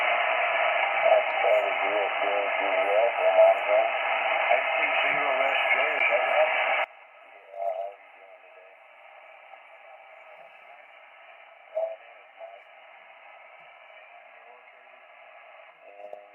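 An amateur radio receiver on the 15 to 40 meter bands picks up Spanish phone stations as a loud band of static and garbled voice, then drops to quieter hiss broken by short bursts of signal.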